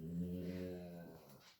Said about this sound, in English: you just heard my dog. He's sleeping, he's dreaming